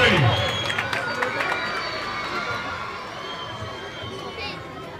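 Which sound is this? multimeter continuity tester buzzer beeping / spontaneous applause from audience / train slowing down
spontaneous applause from audience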